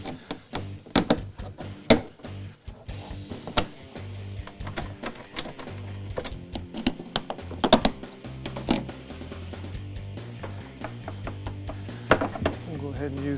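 MAXTRAX mounts being bolted onto a Cargo Pod XL rack on a Ram build, with sharp metallic clicks, clanks and ratcheting taps at irregular intervals close by, mixed with someone talking.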